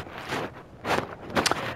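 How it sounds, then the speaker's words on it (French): Footsteps in the survival horror game Resident Evil Village, a few distinct uneven steps on a hard floor, fairly close and clear over a quiet ambient background, with no talk over them. "Non, mais il y a des bruits de pas là. C'est pas les miens en fait."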